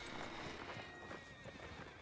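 Horse hooves clip-clop in the Red Dead Redemption 2 video game on a ranch, a steady stream of close hoofbeats with a brief whinny, no talk over it.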